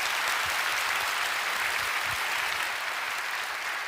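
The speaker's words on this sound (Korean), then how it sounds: "하나님께 감사 영광 박수 보내면 어떨까요?" Church congregation applauding during a Friday prayer service at a Korean church, a dense, steady wash of many hands clapping at even loudness throughout, with no talking over it.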